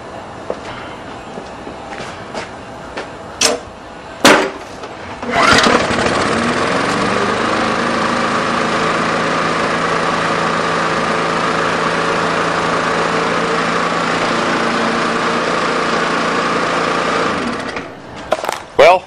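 A Briggs and Stratton lawn mower engine catches on one pull after a few clicks and clanks, then runs at a steady, loud drone for about twelve seconds before cutting off.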